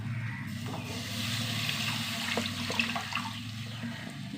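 Drinking water poured into sambar with ground sambar powder, a steady close rush of liquid running for several seconds over a low background hum, no talking.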